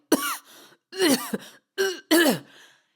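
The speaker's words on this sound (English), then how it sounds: "He coughed again, and this time it curled him over." A person coughs up blood harshly in four wet, strained bursts, close by, each a ragged hacking fit with short pauses between.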